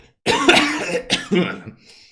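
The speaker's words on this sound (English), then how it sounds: "gonna cough." A single person coughs a few times in close succession, loud and near, with no talking around it.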